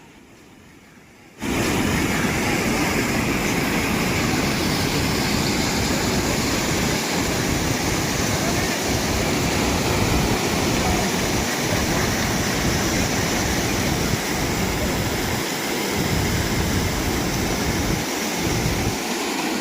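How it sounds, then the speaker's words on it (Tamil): Water rushes forcefully through Mettur dam, a dense, loud, continuous roar that starts abruptly after a quiet first second and holds steady for nearly twenty seconds with no voices. "பாருங்கள் எவ்வளோ ஃபோர்ஸாக தண்ணி வருதுன்னு உங்களுக்கே தெரியும்"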